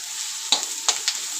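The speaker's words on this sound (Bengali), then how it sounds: "এটা আমি হাই ফ্লেমে নাড়ব।" Onions being stirred on high flame in a pan, with a steady hiss of frying and a few soft scraping strokes of the spoon, close and alone.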